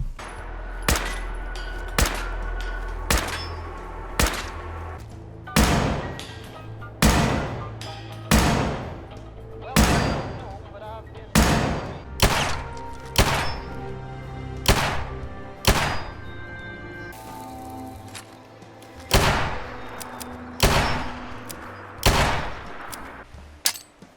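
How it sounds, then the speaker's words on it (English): Sharp gunshots in the game Fallout 4 fire one after another in irregular bursts, each followed by a ringing echo that decays in an enclosed space such as a vault or cave. "So in vaults and caves you can now hear echo, while wooden rooms are a bit muffled"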